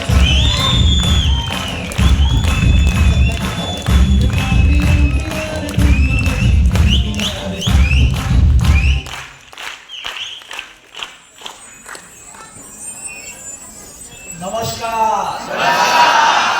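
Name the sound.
loud audience applause welcoming a leader on stage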